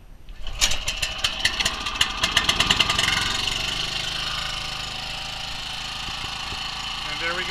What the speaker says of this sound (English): so I'm not drowned out by the motor